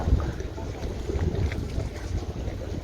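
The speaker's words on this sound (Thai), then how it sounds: "ลมแรง เดี๋ยวลมก็แรงขึ้นลมพัดเข้าชายฝั่ง" Strong onshore wind rushes against the microphone at the Samae San shoreline during night squid fishing, a steady gusty roar with low buffeting thumps and faint water movement, no talking.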